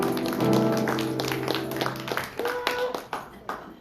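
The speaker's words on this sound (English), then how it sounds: "Give yourselves a round of applause." Applause and hand clapping from a small audience at a casino nightclub show after a group sing-along, a few seconds of fairly close clapping that thins out into scattered claps.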